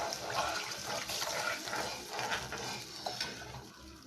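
Water is poured into an apple puree for rava kesari, a steady rushing, gurgling pour heard up close and fairly loud throughout.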